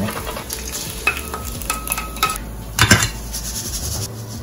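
Rice stirred and frying in oil over low heat, with steady sizzling and repeated scraping of a utensil against the pan, close and fairly loud, no talk.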